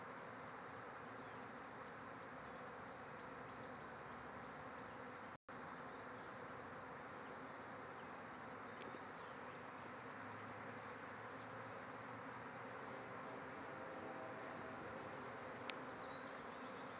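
Bees swarm out of a hive, making a dense, continuous buzzing drone that stays steady and fairly faint throughout, with individual insects occasionally passing closer.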